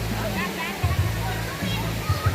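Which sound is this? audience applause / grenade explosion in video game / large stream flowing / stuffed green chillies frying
large stream flowing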